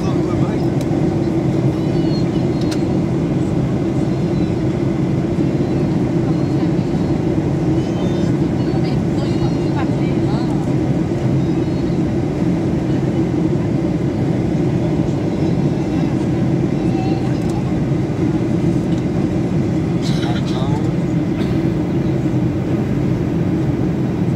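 Steady, loud cabin roar inside an Air Transat Boeing 737-800 landing at Dorval airport in winter: a dense low engine and airflow drone that holds unbroken for the whole stretch.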